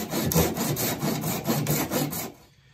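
Hand saw cutting a kerf into the wooden handle of a double bit axe, with steady rhythmic back-and-forth strokes, close and fairly loud, stopping near the end.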